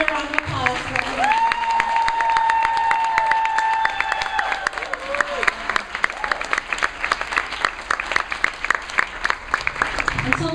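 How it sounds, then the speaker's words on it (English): An audience applauds a poetry reader, dense continuous clapping that holds steady and then thins slightly toward the end, with a faint tonal whine briefly above it. "Another round of applause for her."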